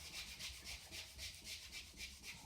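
Hand sanding of polyester resin built up over a run in 2K clear coat, a rhythmic back-and-forth rasping with about eight even strokes, close and fairly quiet, no talking.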